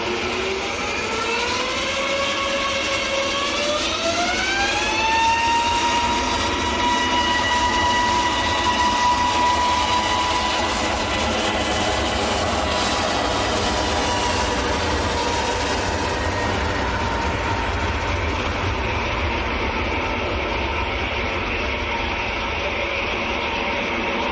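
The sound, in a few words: Titan Airways Embraer E190 aircraft at Manchester airport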